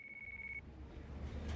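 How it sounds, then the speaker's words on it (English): In Yakuza 5 Remastered, a phone rings with one steady, bright electronic tone that holds for about half a second and then cuts off, leaving a low room hum behind. "That your phone? Better see who it is."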